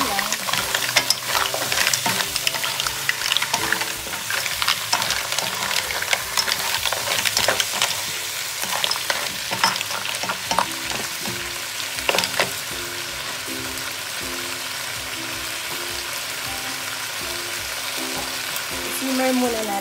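Mussels go into a hot pot for a Filipino mussel soup and sizzle and crackle steadily, with stirring clatter near the start before the sound settles into a softer, even bubbling hiss.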